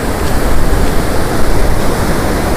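Loud rushing river water pours steadily through a barrage under construction on the Penna river at Sangam, a dense, continuous roar close to the microphone with no talking.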